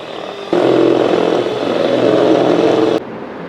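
Electric mixer beating powdered sugar for a plum cake, a steady whirring motor hum that starts abruptly, runs for about two and a half seconds and cuts off.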